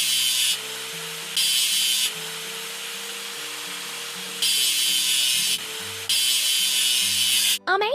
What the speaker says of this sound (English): Let's drag the sander to the seam to make the surface even.